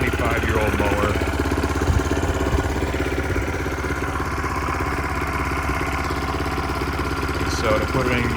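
A 25-year-old Toro Greensmaster 1000 mower engine runs steadily with a close, loud, even chug and mechanical clatter throughout, and a voice talks over it.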